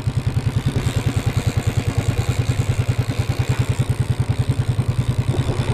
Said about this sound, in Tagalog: Mamaya na natin patayin ang makina